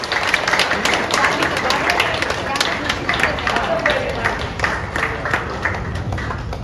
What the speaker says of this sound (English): let us give a big round, clap our hands